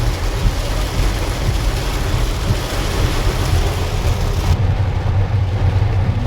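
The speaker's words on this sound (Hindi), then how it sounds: "बहुत तेज वाली बारिश आई है" Heavy rain drums hard and constantly on a car roof and windshield, a dense, loud roar with a low rumble underneath and no voices.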